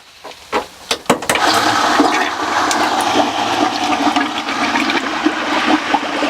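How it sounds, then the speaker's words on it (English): A pump kicks on with a few sharp clicks, then loud liquid rushing and gurgling as descaling cleaner is drawn from a bucket through a hot water heater, continuous and close. "The pump is going to start pulling that cleaner from the bucket right here."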